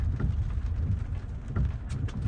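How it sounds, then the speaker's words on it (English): Steady rain falling outdoors, a continuous broadband hiss with a low rumble, fairly faint and constant with no talking. "because it's raining"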